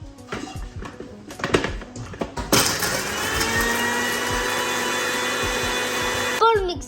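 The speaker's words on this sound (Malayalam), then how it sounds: "ഇപ്പോൾ മിക്സി ജാറിന് അടിച്ചെടുത്തിട്ടുണ്ട്." A mixer grinder whirs into action blending cold coffee with water and ice, preceded by clatter and taps, then a loud steady motor roar that holds for several seconds before cutting off.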